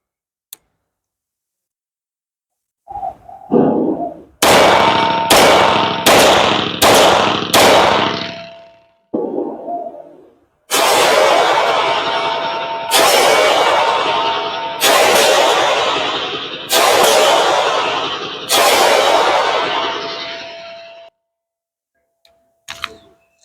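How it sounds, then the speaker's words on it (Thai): Springfield Armory 1911 DS Prodigy 9mm pistol test-fired outdoors: five quick loud shots in a tight string, a short pause, then four more evenly spaced heavy blasts with ringing decay, no talking over them. "มาลองยิงทดสอบกันดูนะครับ"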